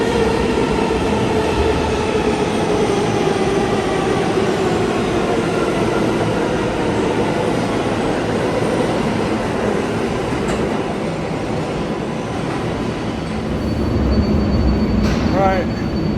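Interior ride on a New York City subway train heading toward 5th Avenue: steady loud rumble and rattle of the car on the rails throughout, with a faint squeal and brief clatter near the end.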